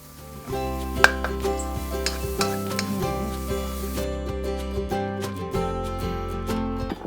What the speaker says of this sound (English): Keep stir frying for another minute.